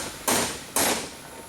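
Two sharp metallic hammer blows strike a punch to drive out a welded shaft on a Volkswagen Tiguan, spaced about half a second apart, each ringing briefly before fading, with no talking.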